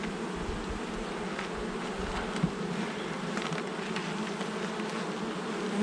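Honey bees buzz in an open hive during a swarm-prevention check, a steady faint hum of many insects close by with no talking.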